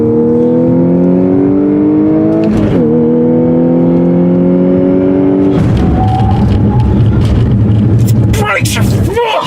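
A 2014 Audi S4 Quattro accelerating hard around a tight racetrack, loud close engine rising in pitch through gears with a shift pause, then revving on with tire and wind noise.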